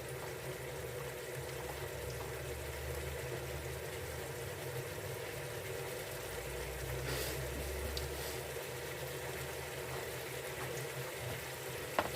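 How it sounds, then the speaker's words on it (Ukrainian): Soup roux with sour cream and vegetables boiling in a pot on a gas stove at full flame, a low steady bubbling and hiss with a faint roar from the burner, quiet and continuous, no talking. "нам треба, щоб засмажка просто гарно прокипіла"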